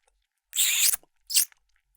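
Two short wet crunchy bursts of close-up chewing and lip smacking, an office coworker's after-meal mouth noise, separated by a brief pause with no talk.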